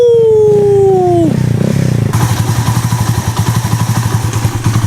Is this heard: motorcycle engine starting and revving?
yes